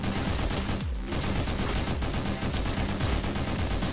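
Shotgun fire in the top-down roguelike OTXO comes as a dense, loud barrage of blasts layered over each other with hardly any gap, close and relentless across the whole stretch.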